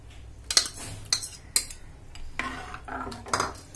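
A spoon clinks and scrapes against a pot several times while cucumber curd curry is stirred with fried chilli and curry leaves, followed by a softer stretch of stirring and scraping.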